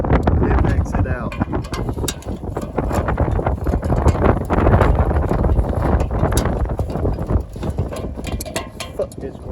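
Gusty wind buffets the microphone outdoors during oak milling and loading work, a loud continuous roar with sharp crackling bursts throughout.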